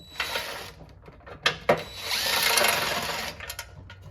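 Power tool backing out transmission pan bolts on a Chevrolet Silverado with an 8L90 gearbox: short whirring bursts and clicks, then a longer sustained whine, close by with no talk.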